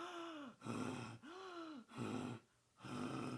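A voice demonstrates heavy, breathy gasps for air, like after running a marathon, several ragged inhales and exhales in an uneven rhythm, close and fairly quiet, in a screaming vocal lesson.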